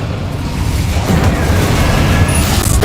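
A roaring Incendio fire spell blast in Hogwarts Legacy, a loud, sustained rumbling burst of flame and booming impact that churns steadily for a few seconds.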